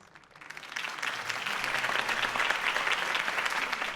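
A crowd breaks into steady, loud applause after a campaign speech in a Batman video game, swelling within the first second and continuing with dense clapping throughout.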